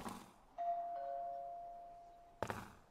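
A doorbell chimes in the Wii horror game Ju-On: The Grudge, a bright ding followed by a long sustained tone, then a second chime starts near the end over a quiet background.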